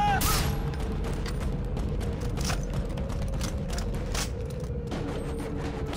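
Gunfire in the video game Far Cry 3, a steady run of sharp shots and bursts over dense, continuous battle noise that stays loud throughout.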